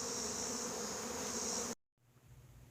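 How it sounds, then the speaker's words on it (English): Dense, continuous buzzing of a swarm of honeybees fills the air, loud and steady, then cuts off abruptly and returns fainter and more distant. "There's a lot of bees in the air right about now."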